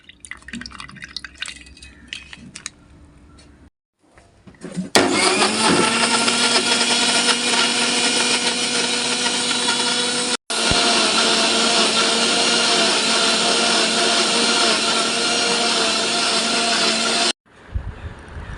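Kitchen blender whirring loudly as it blends milk into a lassi, a steady dense roar that starts abruptly, briefly cuts out, then runs on for several seconds before stopping.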